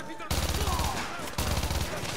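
Automatic gunfire in Call of Duty: Modern Warfare 2 is fired through a wall in two rapid bursts, loud and close, with fast rattling shots over game background sound.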